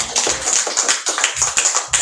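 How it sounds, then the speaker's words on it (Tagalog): Church congregation at a Sunday service applauding, a dense burst of many hands clapping with uneven loud peaks. "Palakpak sa Panginoon."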